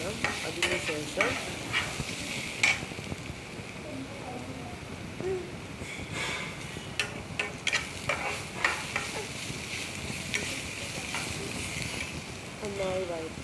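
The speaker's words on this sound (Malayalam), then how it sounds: "പച്ചമുളകിലിട്ട് നന്നായി ഒന്ന് വഴറ്റിയെടുക്കുക." Green chillies sauté in a pan for a mushroom fry, a soft steady sizzle with repeated scraping clicks of a spoon stirring, while someone talks over it.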